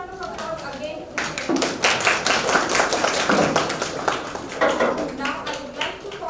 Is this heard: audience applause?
yes